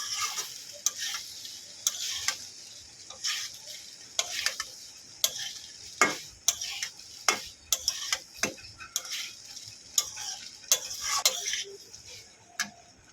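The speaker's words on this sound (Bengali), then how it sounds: "ভালো করে মশলার সঙ্গে মিশিয়ে নেবো" Pasta is stirred with spices in a pan, with a soft sizzle under a steady run of sharp scraping and tapping spoon strokes, close by and with no talk.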